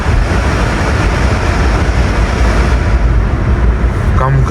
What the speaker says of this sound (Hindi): कम करता हूँ क्योंकि फ़ैन की आवाज़ बहुत ज़्यादा आ रही होगी